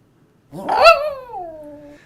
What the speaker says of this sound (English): this is just her happy howl that she would do for treats